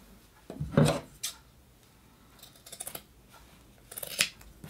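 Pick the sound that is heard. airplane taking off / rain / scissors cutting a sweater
scissors cutting a sweater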